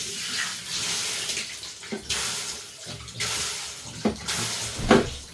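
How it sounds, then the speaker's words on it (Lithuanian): Cold tap water runs steadily into a sink while someone washes their face, a continuous close hiss broken by several louder splashes and gurgles as hands scoop and splash the water. "aš su lediniu vandeniu veidą plaunu"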